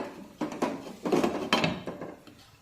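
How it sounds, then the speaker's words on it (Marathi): A metal lid clanks and rattles as it settles onto a kadai of cooking capsicum, a few close knocks and scrapes over about two seconds with no voices. "आता पुन्हा कढईवर झाकण ठेवूया"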